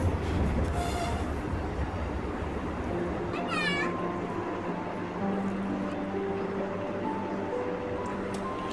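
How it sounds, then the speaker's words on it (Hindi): A passenger train arriving at a rural station in India, a steady loud rolling rumble of wheels and carriages that continues throughout, with a brief high squeal partway through. "ये भी एक पैसेंजर ट्रेन इस रूट की, जो कि मैलानी की तरफ से आ रही है।"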